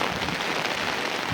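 Steady rain pours down in a continuous dense hiss, close and fairly loud, with no voices over it.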